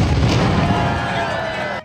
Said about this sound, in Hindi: जहाँ कृष्ण जन्माष्टमी पर 21 तोपों की सलामी दी जाती है।